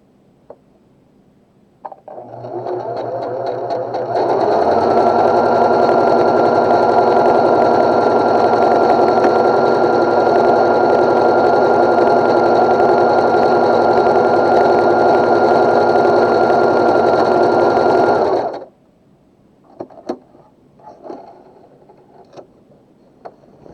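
A Pfaff Smarter 160s sewing machine stitching an automatic buttonhole runs in one steady, loud, continuous whir for about fourteen seconds, then stops, leaving faint clicks and handling noise.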